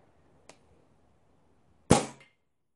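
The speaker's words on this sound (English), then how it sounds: "that's two shots without a moderator fitted" Two shots from a springer air rifle with no moderator fitted and a shrouded barrel without its plenum insert: a faint sharp click, then a loud, close crack with a brief ringing tail, in otherwise quiet surroundings.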